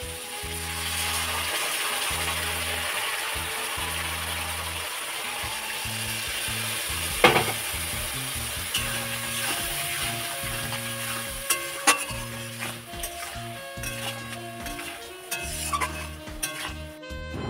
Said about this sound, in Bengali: আর এই যে দেখো সুন্দর করে কিন্তু কষিয়ে নিচ্ছি